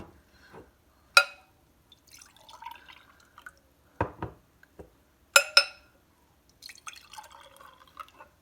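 Homemade grape juice dripping and trickling into glass mason jars, a few sharp clinks of glass and short splashy pours spread across a quiet kitchen with no talking.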